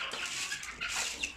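Chickens cluck faintly in a short stretch, soft calls over a quiet, noisy background.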